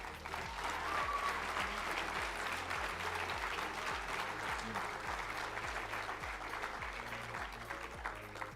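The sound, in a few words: audience applause for award winner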